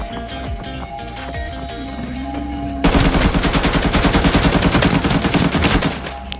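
A rapid, loud burst of automatic gunfire from the shooter game Arena Breakout starts after a quieter stretch and then runs steadily to the end.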